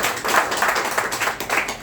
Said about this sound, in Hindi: एक जोरदार तालियां वाली मैडम की